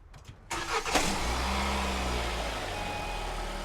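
A Nissan Serena C27 engine cranks briefly and catches after a battery replacement, then settles into a steady, low idle hum close by.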